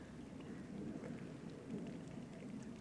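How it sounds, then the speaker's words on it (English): Steady rain falling by a canal on a fishing afternoon, a continuous soft hiss and patter close by with no voices, holding an even level throughout. "it's been raining most of the afternoon"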